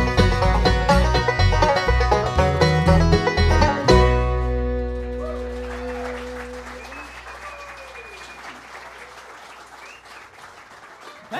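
A bluegrass gospel band finishes a song in concert, and an audience breaks into loud, full applause that slowly thins and fades over the following seconds.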